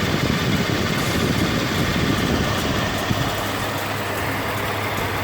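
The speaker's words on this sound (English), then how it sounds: "you can see the compressor spinning right there" Under the hood of a 2010 Lexus RX350, the AC compressor spins with its clutch engaged beside the running engine, making a loud, continuous whirring drone with a low rumble and no speech.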